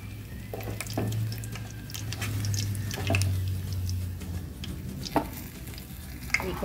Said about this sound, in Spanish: Cuando los chiles ya están fritos